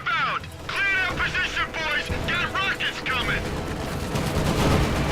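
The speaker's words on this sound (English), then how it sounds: "the thing got shot up by the anti-tank battery" An anti-tank battery fires in Company of Heroes 2, with booming bursts of gunfire and battle noise rumbling under chirping, voice-like sounds throughout.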